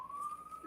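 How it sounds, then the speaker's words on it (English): A distant ambulance siren on a New York street outside gives a brief, faint, steady wail that holds a single high tone with no talk over it. "can't go one podcast without an ambulance"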